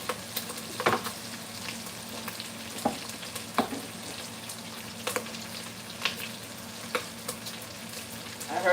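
Food sizzles and fries in a pressure cooker pot whose lid is not seated properly, a steady crackling hiss with scattered pops and soft clinks, heard alone at moderate loudness in a home kitchen.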